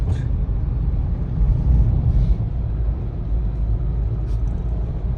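Big trucks crawling in jammed traffic on EDSA near Cubao, a deep, steady low rumble of heavy engines close by with no clear breaks.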